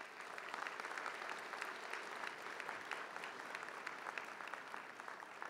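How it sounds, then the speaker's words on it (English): Applause from the audience at a 2013 honors convocation: a dense, steady wash of many hands clapping at once, sustained throughout, heard from a distance and fairly faint. "A round of applause for us all"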